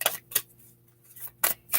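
Tarot cards being shuffled by hand, giving four separate crisp riffling bursts spaced apart, close and fairly quiet, with near silence between them and no talking.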